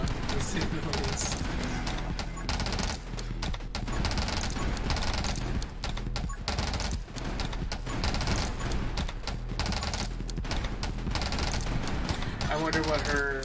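A grenade launcher and a black hole weapon fire nonstop in the game 20 Minutes Till Dawn, a dense, loud barrage of rapid bursts and impacts with barely a pause for over thirteen seconds.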